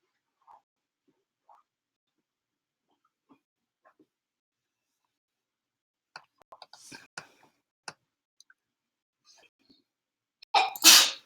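A single sharp sneeze bursts out near the end, following a stretch of quiet scattered ticks and small clicks.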